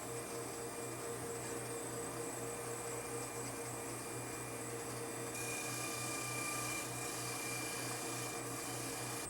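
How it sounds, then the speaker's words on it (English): A boat propeller blade being ground down to remove excess added alloy and reshape it, a steady, continuous high-pitched grinding with a constant motor hum and no speech. "Now we're going to grind off the excess material that we've added to our blade and bring it back into shape."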